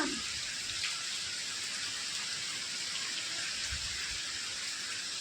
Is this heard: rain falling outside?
yes